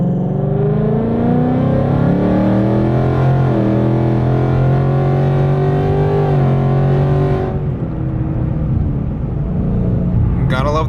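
A car with a 10-speed transmission running on E85 drives along, its loud engine drone climbing and shifting in pitch through the gears, then settling into a steady rumble, with a voice talking over it.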